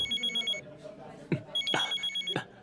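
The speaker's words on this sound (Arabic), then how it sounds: "بالإذن، تليفون لازم رد عليه" A telephone rings in repeated short bursts of bright electronic tone, with a few sharp knocks or thumps cutting in between the rings.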